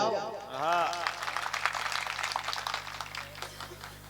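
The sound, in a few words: audience applause at a Hindi poetry gathering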